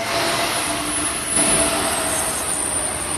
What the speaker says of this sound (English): I can hear the train now.